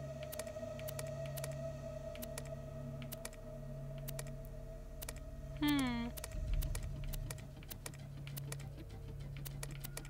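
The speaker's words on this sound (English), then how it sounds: "I have to go on the keyboard" Keys clatter steadily on a computer keyboard while typing a name into Borderlands 2, quick light taps running throughout over a faint game background hum, with a brief swooping tone in the middle.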